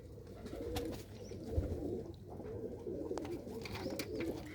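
Pigeons out in a netted enclosure give soft low coos amid faint rustling and scattered clicks, quiet and continuous over a short span.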